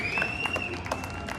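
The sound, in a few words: crowd applause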